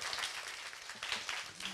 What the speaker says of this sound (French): ces applaudissements, c'est pour tous les encadreurs de l'école Gloris